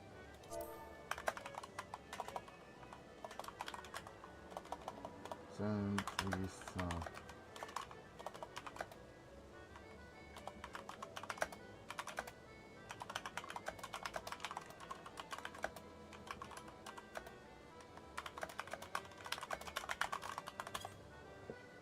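Rapid bursts of keystrokes on a computer keyboard, fairly quiet and close, with short pauses between runs and a voice speaking now and then.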